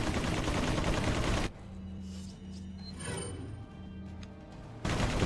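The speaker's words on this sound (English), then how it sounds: "Shoot through the wall." Gunfire in the survival-horror video game Resident Evil 4, shot through a wall at enemies: loud, dense bursts of firing at the start and end, with quieter game ambience and faint tones between.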